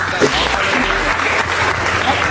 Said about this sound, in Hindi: तो सबसे ज्यादा तालियां इन बिगनर्स है